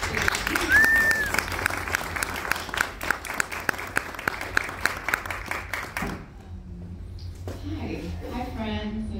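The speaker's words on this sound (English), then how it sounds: "Let's give a round of applause." An audience claps warmly at a poetry and prose reading. The applause is dense and sustained for several seconds, then fades as a voice begins speaking.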